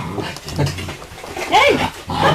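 Several puppies at an outdoor pen whine, yelp and pant close by, with a rising-falling squeal in the middle, mixed with low rustling and movement.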